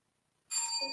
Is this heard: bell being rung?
yes